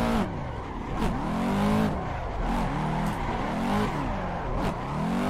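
A BMW E46 accelerates hard on a track, its engine revving up and dropping repeatedly through several gear-like sweeps, loud and close with a raw racing tone.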